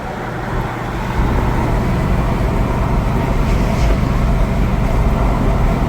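Steady broadband road and engine rumble inside a moving classic convertible car, a dense continuous roar with wind noise that swells slightly after the first second and stays loud throughout, with no voices.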